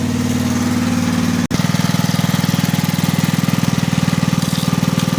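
A Kirsch petrol generator engine runs loud and steady with a fast, even throbbing hum, broken only by a momentary dip early on before settling back into its continuous chug.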